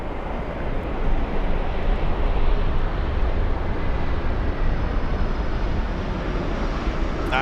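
A jet airliner rolls out on the runway at LAX after touchdown, a steady loud broadband engine and reverse-thrust roar sustained and even throughout, with wind rumble and no voices.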